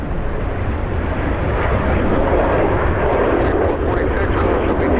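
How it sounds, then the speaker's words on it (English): MD-11 jet lining up on the runway at Los Angeles International Airport, giving a loud, steady roar of engines heard from a distance, with a voice talking over it. "We have the MD-11 lining up."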